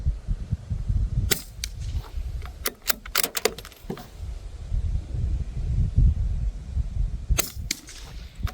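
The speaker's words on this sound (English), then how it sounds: "So let's put 5 rounds into the target." Sharp, loud air rifle shots at a target, several spaced cracks in a row alongside metallic clicks of handling, heard close with no talking.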